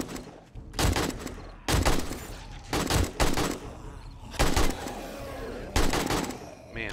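Bursts of AK rifle fire in the survival game 7 Days to Die, five loud automatic volleys of sharp shots separated by brief pauses, close and dominant with no talking.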